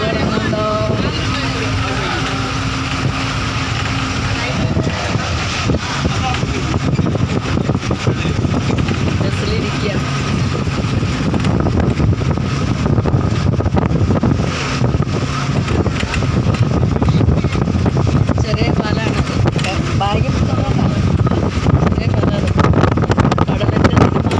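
A boat engine drones steadily through a ride near the Pamban bridge at Rameswaram, with strong wind buffeting the microphone and people talking over the noise throughout.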